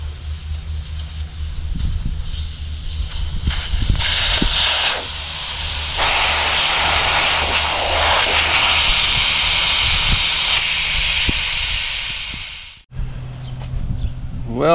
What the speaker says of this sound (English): I'm going to take all the air out of it first just to get whatever remaining pressure might be in there